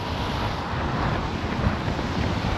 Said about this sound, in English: We have to fight against the wind.